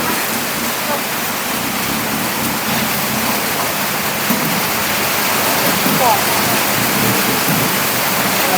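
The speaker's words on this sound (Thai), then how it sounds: "ฝนตกแรง" Heavy rain pours down in a loud, dense, unbroken hiss that never lets up.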